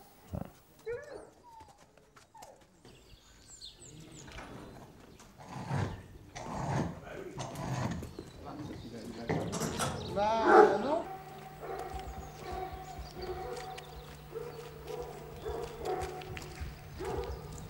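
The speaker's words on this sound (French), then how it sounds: "parmi les 70 chiens, il faut faire le tri des 30 qui vont chasser aujourd'hui" A pack of hunting dogs on a large estate barks and yelps in overlapping bursts, some near and some farther off, with hooves clopping and people talking throughout.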